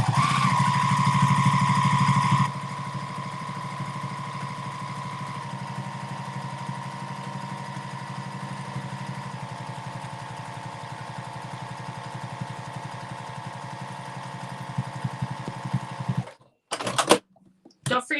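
A Brother VE-2200 embroidery machine stitches a key fob with a steady, fast mechanical whir and hum that stays constant, louder at first, before it stops and a few brief handling clicks follow.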